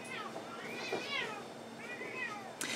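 A cat meows in a few drawn-out, wavering cries while it tangles with a dog, with a voice audible around the calls.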